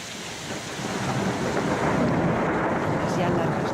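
Heavy storm over a mountain garden at the royal estate of La Granja de San Ildefonso, with loud, steady broadband roar of pouring rain and gusting wind, building slightly and sustained throughout.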